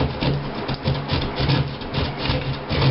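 A utility knife scores and cuts through sheetrock while patching a hole in a wall, giving close, repeated scraping rasps in a quick back-and-forth rhythm, with no voices.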